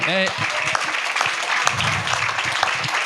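Audience applause for Alexandre Dezerbe at a language debate event: a short burst of clapping from a small crowd, mixed with speaking voices at the start and chatter underneath.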